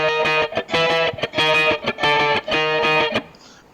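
Guitar playing the intro to a song, a run of bright, sustained chords and notes in a steady rhythmic pattern with short pauses between phrases, heard alone and fading out at the end.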